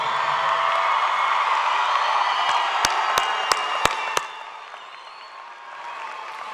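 Large graduation crowd at the Riverside High School class of 2019 ceremony roars with sustained applause, cheering and whoops, a few sharp pops standing out midway before the noise thins and then swells again.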